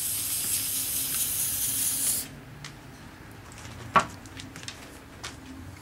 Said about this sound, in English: you hold the can approximately 6 inches or so from the workpiece, and you spray on a liberal amount